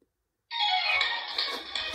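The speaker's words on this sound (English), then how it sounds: "So that was my phone going off." A phone set off by a Tugamobi SB302 smart band's find-phone feature starts ringing after a half-second of silence, a loud, steady electronic ringtone that continues to the end with no voices.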